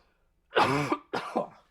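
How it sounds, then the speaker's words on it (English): A person coughs twice up close, a harsh throaty hack followed by a shorter second cough, with silence before. "that's just coughing"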